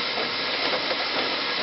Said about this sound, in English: It has to have a steady flow of steam coming out for 10 minutes.